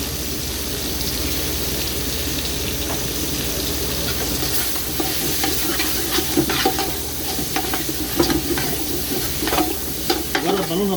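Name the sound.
food frying in oil in a pan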